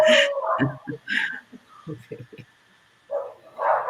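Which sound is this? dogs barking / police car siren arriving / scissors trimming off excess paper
dogs barking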